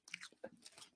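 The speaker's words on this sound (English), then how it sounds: "So you can hear the crunch." Close, crisp crunching of someone chewing fried chicken, a few quick bites over about a second, quiet and intimate with no talk.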